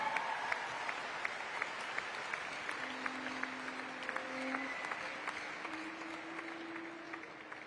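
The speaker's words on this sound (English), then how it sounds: "Round of applause, Pai Pai Lima." Sustained applause from a crowd at the FestPAC closing ceremony, steady and moderately loud, with a faint tone droning beneath the clapping.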